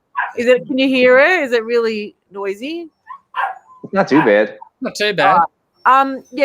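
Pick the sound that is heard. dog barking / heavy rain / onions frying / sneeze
dog barking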